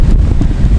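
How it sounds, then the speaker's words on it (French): Strong wind after a storm buffets the microphone in a loud, dense, low rumble that lasts under a second. "il y a toujours du vent"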